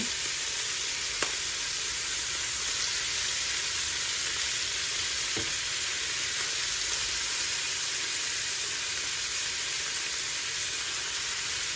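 Butter sizzles in a frying pan alongside green beans, giving a steady, even hiss with a couple of faint knocks, and no talking.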